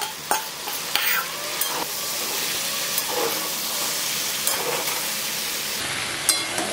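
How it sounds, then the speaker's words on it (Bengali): Paneer cubes frying in a pan with spiced vegetables for a dhaba-style home recipe, a steady loud sizzle with occasional stirring scrapes and spatula knocks, no talk. "তার আগে আমি এবার পনিরটাকে এর মধ্যে অ্যাড করছি"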